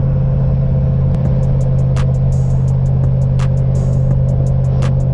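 A turbo LS-swapped Nissan 240SX with a 4L80 transmission cruising in overdrive at about 60 mph, a loud steady low engine drone with a constant hum and scattered high clicks above it.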